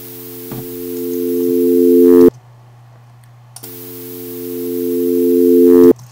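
A 16-bit export of a test tone with dither noise added: two steady, rising electronic tones swell louder and cut off abruptly, with a faint hiss beneath them.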